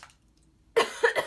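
Two or three sharp, close coughs from a person who is ill with a runny nose, bursting out loudly after a second of near silence, with no talk.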